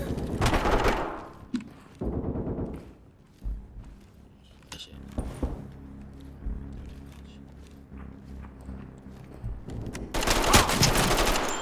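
Gunfire in the tactical shooter Ready Or Not, loud bursts of rapid automatic shots at the start and again near the end, with scattered single shots and quieter mechanical clatter in between.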